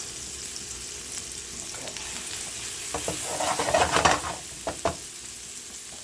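Onions fry and sizzle in a pan while being stirred, a soft steady crackle with scraping stir bursts rising toward the end, faint and close, with a brief word spoken.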